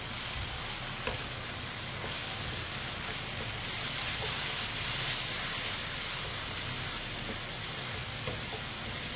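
Chopped tomatoes and green chillies are mixed in a frying pan. A dense, steady sizzle and steamy hiss carry on throughout, broken by a few faint spoon taps, with no talking.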